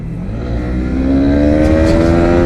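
A Honda CB 300 motorcycle accelerating hard on a test ride, its smooth engine note climbing steadily in pitch and growing louder throughout, close and continuous with no talk.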